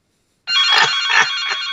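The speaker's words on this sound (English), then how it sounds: "Do you mind if I answer my phone?" A telephone rings in a continuous electronic trill that starts abruptly and pulses in repeated bursts, loud and close with no talking.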